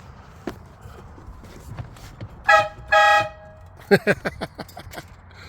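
Two loud, bright blasts from a mini train horn installed on a car, a short one then a longer one, followed by a quick series of sharp clicks and knocks nearby.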